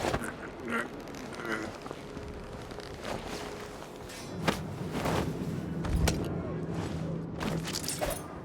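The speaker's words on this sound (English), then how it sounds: "I'm hearing quacking again. Maybe there's ducks in the bushes or something." Ducks quack in the video game Dishonored 2, several short quacks scattered across the clip at moderate distance amid ambient game sounds.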